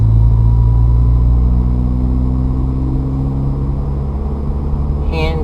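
A car engine holds a steady, loud mid-range drone throughout a manual upshift, with no clear revving or pause in the sound.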